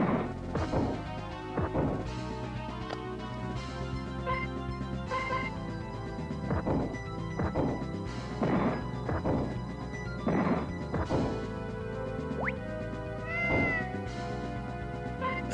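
Neko's Cat Dash attack in the RPG Maker game Gobli plays as repeated game meows and caterwauls mixed with crashing, whacking hits over continuous battle music, steady and fairly loud throughout.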